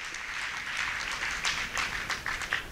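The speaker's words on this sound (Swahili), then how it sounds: "Tupige makofi kwa ajili ya ndugu zetu." Audience applauding at an evangelism conference in a church in Dodoma, a crowd clapping steadily at moderate distance for a few seconds, even and sustained with no voices over it.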